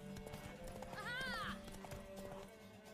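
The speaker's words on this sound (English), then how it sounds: "Okay, so this horse does have pretty good stamina, so we should win this." Horse galloping during a race in The Witcher 3, rhythmic hoofbeats under steady game music with a brief whinny in the middle, played at a moderate level.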